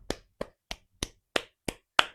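A single person claps seven times, close and dry, at a steady rhythm of roughly three claps per second with clear silence between each one, the last clap slightly louder.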